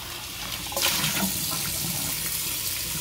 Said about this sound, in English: I turn the water on. I just rinse mine out.